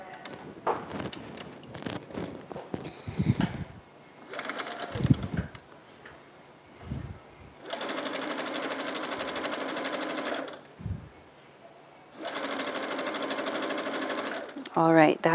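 A sewing machine stitches down a quilt block in two long, steady runs of close, even whirring, with brief handling noises and some talk in the gaps between runs.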